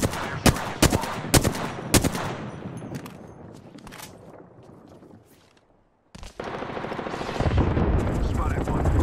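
An Apex Legends fire strike artillery barrage in the video game sets off sharp, loud blasts in a cluster early on, then a rumbling wash and a brief drop to near silence before a dense, heavy roar of explosions.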